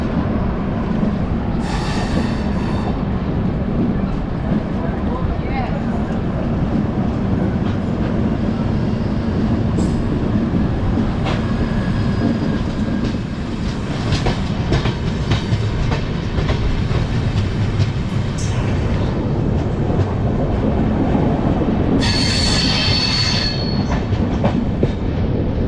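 The Pratap Express rolls along with a steady rumble and rhythmic clickety-clack of wheels, brief squeals and a passing rush as it crosses the Mahananda Express, loud and continuous with no talk.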